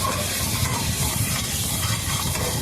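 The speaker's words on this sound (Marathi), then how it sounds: "हे पहिले आपण फ्राय करून घेऊया म्हणजे चांगला हा मसाला शिजून घेऊया तेलामध्ये अशा पद्धतीने" Coriander and mint masala paste frying in hot oil, a steady close hiss and sizzle with light stirring scrapes running continuously throughout.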